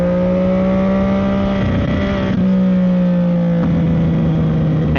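An ECU-tuned CFMOTO 675SS motorcycle engine hums loud and close with a steady tone that drops slightly, broken by a couple of short sharp crackles near the middle and toward the end, with no talk.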